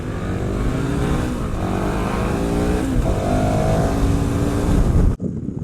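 KTM 1090 Adventure R V-twin motorcycle engine from 2018, a loud, steady, close engine drone with rising revs and a gear shift midway, cut off abruptly near the end.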